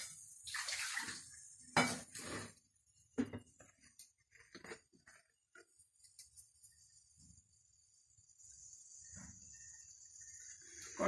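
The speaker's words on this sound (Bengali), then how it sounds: "কড়াই গরম হয়ে গেছে, এবার তেল দেবো।" Cooking oil poured into a hot wok, a short soft liquid splash at the start followed by a few faint clinks and quiet kitchen shuffling.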